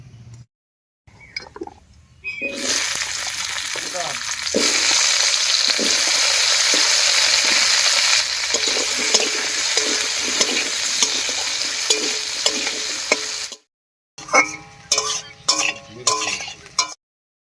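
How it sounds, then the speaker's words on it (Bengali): Diced potatoes sizzle loudly in a pan with ginger and cumin, the steady frying hiss broken by repeated scraping and clinking stirs, then a pause followed by a few sharp metallic clinks and taps. "আদাটাও ভাজা হয়ে গেছে এবার এর মধ্যে দেব কেটে রাখা আলু"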